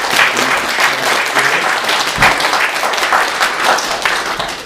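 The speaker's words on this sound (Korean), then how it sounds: "박수로 격려하고 있습니다." Church congregation applauding during a Sunday worship service, a dense, steady wash of many hands clapping at close range for the whole stretch, with no break.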